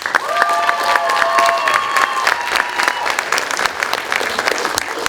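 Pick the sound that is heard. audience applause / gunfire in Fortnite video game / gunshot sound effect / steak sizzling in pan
audience applause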